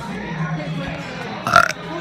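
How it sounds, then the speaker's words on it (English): A person burps loudly and close into a camera, one short rough belch after a stretch of quiet room noise with faint talk. "So my cousin just burped into the camera."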